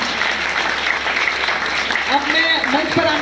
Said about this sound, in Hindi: तालियां कम लग रही हैं